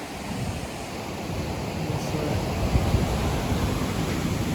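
Ocean surf washing onto a roadside beach along a scenic coastal road, a steady broadband roar of waves with wind noise hitting the microphone throughout, swelling slightly near the middle.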